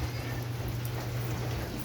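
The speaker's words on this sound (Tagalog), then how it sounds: "tuloy-tuloy ang ulan" Steady, continuous rain pours down outdoors, a dense even hiss of drops hitting surfaces that holds at the same level throughout with no break.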